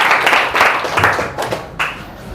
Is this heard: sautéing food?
no